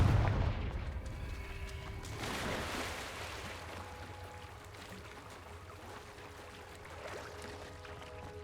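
A Confringo blasting spell explodes in Hogwarts Legacy, opening with a heavy low boom that decays into a rumbling, crackling wash with softer bursts following, all fairly loud and without speech.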